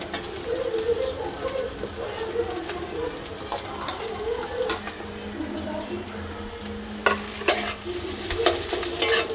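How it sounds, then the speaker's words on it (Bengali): Boiled potatoes are stirred into a frying pan of sizzling oil for paratha filling, with a steady crackle, scraping spatula strokes and occasional clinks of the pan. "এবার সেদ্ধ আলুগুলোকে দিয়ে দেবো এর মধ্যে"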